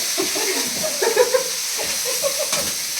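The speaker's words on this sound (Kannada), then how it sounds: "ಇವಾಗ ಚಟಪಟ ಶಬ್ದ ಆಗ್ಬೇಕು, ಮಾತಾಡಿ ಕೇಳಿಸ್ಬಾರ್ದು" Tempering for avalakki crackles and sizzles steadily in hot oil, with brief louder pops near the start and a short burst toward the end, close and continuous with no talking.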